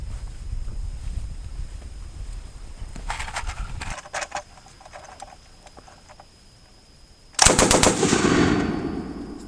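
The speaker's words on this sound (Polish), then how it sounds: "strzela bardzo powoli. Kadencja to jest około 500 strzałów na minutę." Bursts of automatic fire from a DP Degtyaryov light machine gun at a slow cadence of about 500 rounds per minute, outdoors with wind noise, a short burst followed after a pause by a louder, longer burst that rings out.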